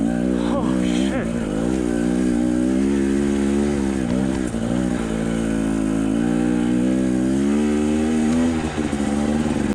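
A KTM/Husqvarna TE 250i two-stroke dirt bike engine on steep single track, a steady loud buzzing drone with slight throttle variations throughout, close and continuous.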